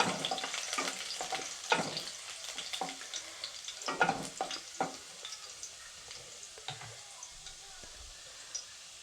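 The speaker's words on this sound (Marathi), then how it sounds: "चिरून घेतलेला लसूण टाकते मी" Chopped garlic fries in hot oil with a bright, hissing sizzle and scattered crackles, broken by a few louder stirring clatters early on, then settling into a softer, steady frying hiss.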